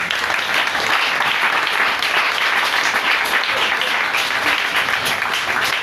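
A church congregation applauding during a French-language worship service, a dense, steady wash of many hands clapping together, loud and continuous with no pauses.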